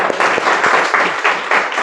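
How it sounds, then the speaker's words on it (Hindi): Dense, steady audience applause fills a large meeting hall, many hands clapping loudly at once and alone, without voices over it. "तालियां"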